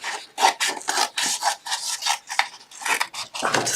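Card paper for a folded Christmas card is cut by hand in a quick series of rasping, scraping strokes, close and loud in an uneven rhythm, with no talking.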